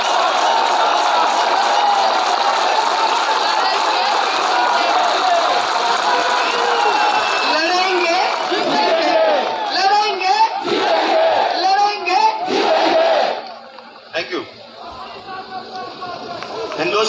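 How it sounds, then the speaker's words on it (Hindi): A crowd at an RCM gathering in India claps and cheers for a long stretch, dense applause swelling with scattered shouts and whoops before it drops off, a speaker's voice returning over the tail. "एक बार जोरदार तालियां चाहता हूं पूरी टीम के लिए।"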